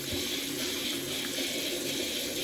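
Running water splashes steadily as a face is washed with soap lather during a straight razor shave routine, a close, continuous sink-like wash with no talking.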